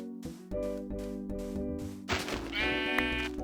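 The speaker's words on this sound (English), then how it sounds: "Sheep." Sheep in the Minecraft video game bleat in several quick, close, pixelated calls, followed by a denser overlapping stretch of game sounds.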